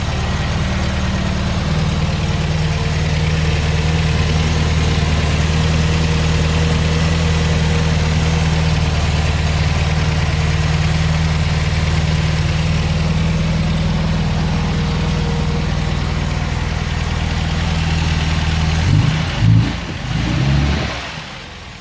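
An MGB's B-series engine idles steadily just after a cold start, a continuous low, even rumble held close and loud for the whole stretch, with a few brief blips of extra noise near the end and no talking.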